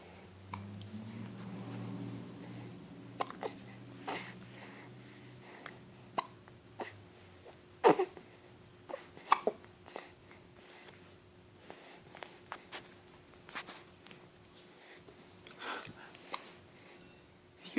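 Repeated short hiccups, sharp and isolated, come at irregular intervals over a low hum, loud near the middle and tapering later, with some voice at the start.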